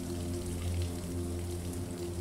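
Rain falling over a waterfront park on Lake Union, a steady dense hiss of drops with a low constant hum beneath, even and unbroken throughout.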